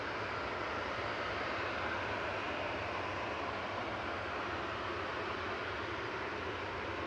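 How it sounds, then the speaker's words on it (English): A Jet2 Boeing 737-800 airliner at Manchester Airport makes a steady, broad engine roar that stays constant and moderately distant throughout, with no voices. "This is another 737-800 GGDFS with flight 901."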